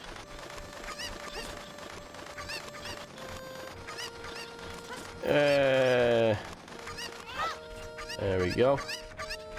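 A chicken in The Legend of Zelda: Ocarina of Time clucks in short, loud squawking bursts over game music and sound effects, and a player speaks briefly.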